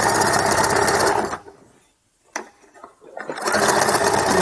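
A sewing machine stitches elastic onto a leotard in loud, fast bursts, pausing for about two seconds in the middle before running again at full speed, close by.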